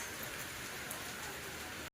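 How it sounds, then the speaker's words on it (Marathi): Steady rain falls outside a house beside a stone ledge, a dense continuous hiss of drops on surfaces that holds evenly for two seconds, then cuts off abruptly. "बऱ्यापैकी पडतोय पाऊस"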